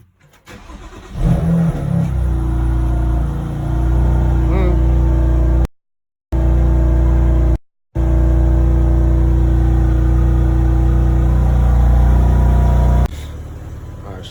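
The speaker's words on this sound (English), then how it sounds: "Now I got the car pretty good and warmed up." A BMW M2 Competition engine idles steadily at close range, a low continuous rumble with brief dropouts, then settles before cutting off near the end.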